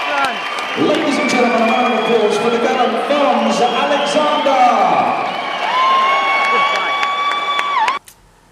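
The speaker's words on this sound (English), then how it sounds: "a round of applause" Crowd cheering and whooping with clapping mixed in at a boxing event, loud and sustained for several seconds before cutting off abruptly.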